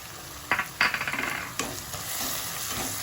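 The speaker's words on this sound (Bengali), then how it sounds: "ভালো করে মশলাটা কষিয়ে নেব" Spice masala of cumin and coriander powder frying in a pan for chicken kima tadka, with a few sharp spoon scrapes and clinks over a soft continuous sizzle, close and without talk.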